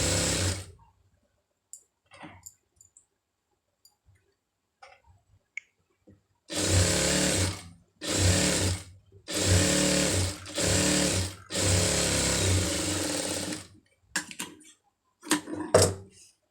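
Sewing machine stitching piping cloth, several loud bursts of rapid mechanical whirring separated by quiet pauses, with small clicks and handling noises between runs.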